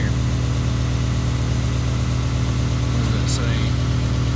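A truck engine idles with a steady low drone while a Viair 480C air compressor runs and builds air pressure, with a voice speaking briefly over the hum.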